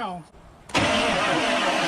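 A truck's 24-volt starter cranks the engine while it sits up on jack stands: a brief quiet pause, then a sudden loud, close grinding whir that carries on steadily, with a voice just before it.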